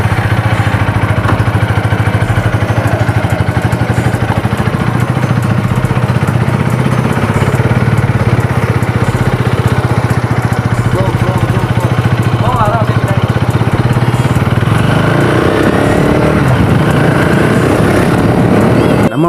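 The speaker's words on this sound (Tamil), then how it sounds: "இப்போ வண்டியோட சவுண்ட் எப்படி நீங்கள் கேட்டுட்டு வாங்க." A KTM Duke 250 motorcycle, just after its first service, runs steadily throughout with a loud, continuous engine drone and a slight change in pitch near the end.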